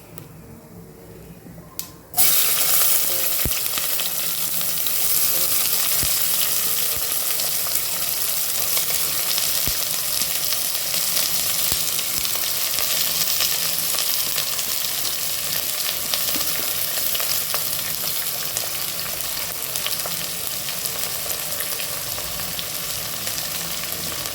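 Steady, loud sizzling and crackling of chopped onions frying in a hot pan, starting abruptly after a brief quieter moment and continuing throughout.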